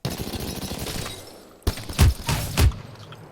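RE45 pistol in Apex Legends firing from a crouch: a few sharp, loud shots, the first sudden after a lull and two heavier bursts close together near the end, over a steady background bed of game noise.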